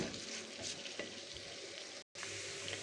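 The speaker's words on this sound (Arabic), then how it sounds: "لسه بقلب اهو في الرز" Rice that has been washed is stirred and fried in a pan to brown, giving a steady close sizzle with soft scraping stirs throughout and a brief dropout near the end.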